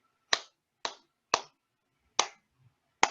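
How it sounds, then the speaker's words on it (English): A laughter yoga group claps in a two-and-three rhythm, with five sharp, close claps standing alone against near silence: two quick ones, a third, a pause, then two more. "we're clapping, and we're going to clap in a specific rhythm of 2 and 3"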